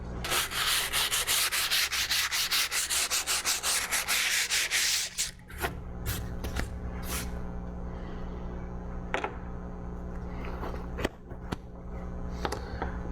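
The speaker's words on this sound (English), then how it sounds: "I've just finished sanding everything here using a nice coarse grit paper" Steady, rhythmic rasping of coarse sandpaper scrubbing back and forth over a fibreglass resin coat on a sun deck for several seconds, then stopping, followed by a few scattered taps and knocks in a quiet room.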